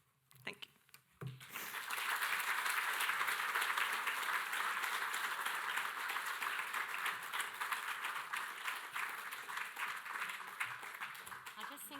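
After a short quiet moment, an audience at a mental health symposium bursts into sustained applause, a dense, even wash of many hands clapping that holds for several seconds and tapers only slightly toward the end.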